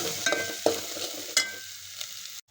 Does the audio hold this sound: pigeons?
no